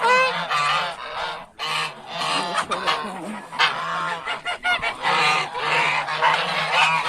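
Geese honk loudly and repeatedly by a chicken coop, several birds calling over one another in a near, continuous chorus with brief pauses.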